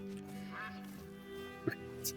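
A duck quacks in the hunting video game The Hunter: Call of the Wild, a few short faint calls over a steady low ambient hum, with no talking.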